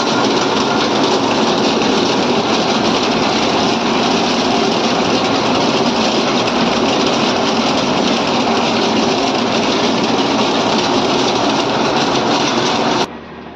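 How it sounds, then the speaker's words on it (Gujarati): A reaper machine fitted with a side cutter runs steadily at close range, a dense, loud mechanical roar with constant rattling that holds unbroken for the whole stretch before cutting off abruptly at the end. "આ રીપર મશીનની અંદર આપણે સાઈડ કટર લગાવીએ છીએ।"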